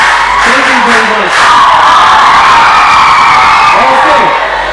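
A college debate final audience cheers loudly for Trinity College students, a sustained close crowd roar with whoops and shouted voices rising and falling.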